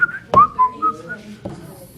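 Short whistled melody of several bright sliding notes in a classroom, fairly close and clear, with a brief thump and faint background murmur.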